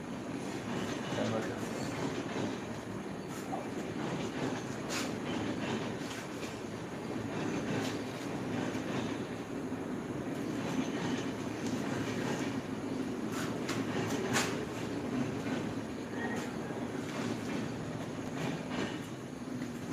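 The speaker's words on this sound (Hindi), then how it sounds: "एक मिनट जाने दीजिए ट्रेन को" A train passes nearby, a continuous broad rumble with rattling and occasional sharp metallic clanks that holds steady for the full stretch, loud and close with no talk over it.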